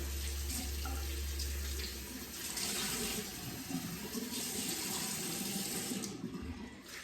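Warm water runs steadily from a bathroom tap into a sink for face washing, a continuous close splashing hiss that fills the whole stretch with no talking.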